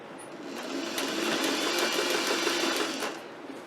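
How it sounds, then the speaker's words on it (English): A sewing machine stitches fabric shreds flat under the presser foot, running in one steady, close, fast hum for several seconds before slowing to a stop, with no talking. "hold it flat so it doesn't get stuck under the foot, and sew"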